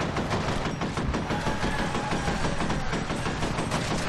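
Automated turret in the shooter game F.E.A.R. Extraction Point fires a loud, continuous rapid burst of machine-gun rounds, dense repeating shots running the whole stretch with no pause and no talk.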